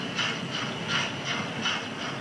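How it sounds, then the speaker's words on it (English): A model Black 5 steam locomotive works hard up a grade on a railway layout after leaving a tunnel, giving a steady rhythmic chuffing of regular puffs at moderate loudness, with no one speaking. "Here's my Black 5 emerging from the tunnel, working hard on the grade"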